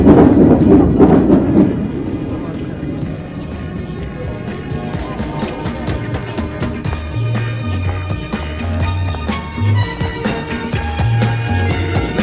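A train moves at a railway platform in a 1977 Polish film, its wheels and carriages rumbling and clattering steadily. A brief burst of station noise opens the scene, then a low mechanical hum carries on underneath.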